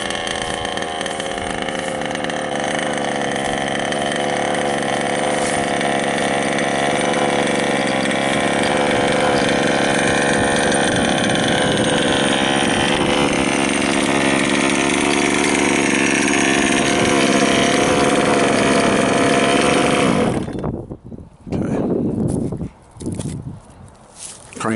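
OBR 32cc two-stroke engine in a Losi Five B RC car runs steadily at a loud, buzzing idle for about twenty seconds, then cuts off and sputters into quiet with a few brief bursts.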